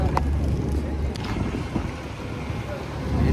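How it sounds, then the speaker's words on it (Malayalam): Wind buffeting the microphone aboard a jankar ferry crossing at Munroe Island, a loud continuous low rumble and gusting roar with an engine hum beneath. "സൂപ്പർ, നല്ല കാറ്റുണ്ട്."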